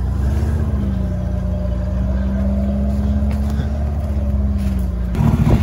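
An off-road car's 1.7-litre engine idles at a steady drone, then revs up near the end as the vehicle pulls away, loud and close.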